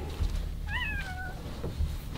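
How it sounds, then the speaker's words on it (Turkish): A cat gives one drawn-out, rising and falling meow indoors, fairly close and clear, with no talking over it. "Kedi var."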